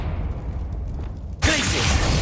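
A Confringo fire-blast spell in Hogwarts Legacy, a sudden loud whooshing burst that kicks in midway and holds steady over a low game background.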